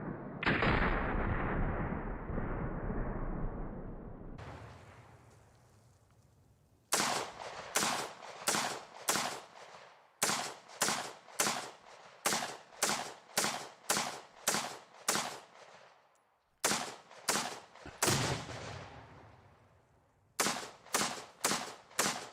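Faint, sharp gunshots from a 28-pound gun fired from the hip crack out in a long string of evenly spaced blasts, each with a short decay. A few brief pauses break up the volley.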